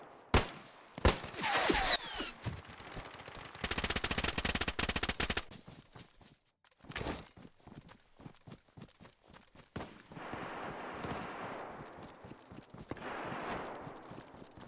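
Gunfire from a player's gun in the survival game DayZ crackles in rapid clustered bursts early on, followed by quieter scattered taps and shuffling movement sounds at moderate loudness.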